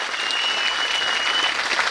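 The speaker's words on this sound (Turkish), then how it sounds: "Hepiniz alkışa başlayın" Sustained applause from a crowd at a CHP (Republican People's Party) holiday greeting rally in Mersin, Turkey, a dense, steady clapping wash that holds at even loudness throughout with no break.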